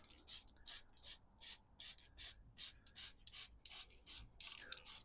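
Silver wheel paint sprayed from an aerosol can in a steady series of about a dozen short, evenly spaced hissing bursts, close and fairly quiet.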